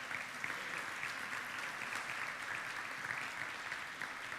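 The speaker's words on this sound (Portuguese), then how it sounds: "Dá um aplauso para Ele bem forte." Church congregation clapping hard during a worship service, a continuous thick roar of many hands at steady loudness throughout.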